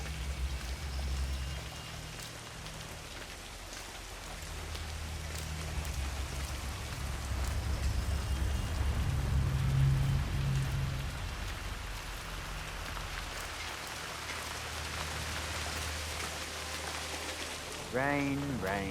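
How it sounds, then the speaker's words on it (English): Steady rain pours down in Hitman 3 on PS5, a dense continuous hiss broken by scattered drops, with low rumbling underneath and a brief voice near the end. "Rain, rain, nothing but rain."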